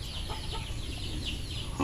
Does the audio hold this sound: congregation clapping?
no